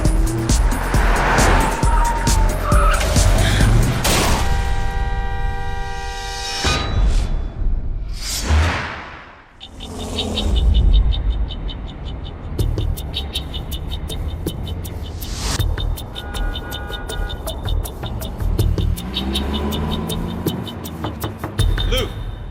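A car pulls away with tires skidding and squealing, its engine loud and close, followed by more driving noise and a whooshing pass, with no talk over it.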